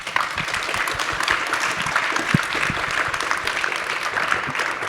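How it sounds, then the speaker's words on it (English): Sustained applause from a conference audience for panelists after a panel on soil carbon dioxide removal in the Midwest, moderately loud and even throughout. "Let's give them a round of applause."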